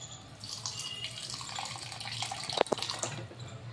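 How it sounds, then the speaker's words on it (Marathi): Water is poured into a pan of vegetable curry, a quiet, close splashing trickle running for a few seconds, ending in a couple of sharper splashes, with no talk. "आता यामध्ये मी थोडं पाणी टाकणार आहे."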